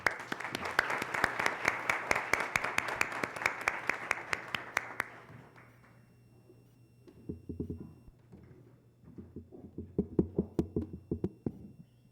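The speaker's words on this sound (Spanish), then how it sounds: "Un fuerte aplauso para el magistrado" Applause for a magistrate at a talk on legal challenges of artificial intelligence in the Dominican Republic: brisk, crisp clapping that fades out, then a few sparse, scattered claps return in short bursts.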